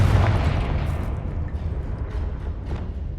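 Confringo fire spell blast in Hogwarts Legacy, a booming explosive burst at the start that trails off into crackling, rumbling debris and fading echoes.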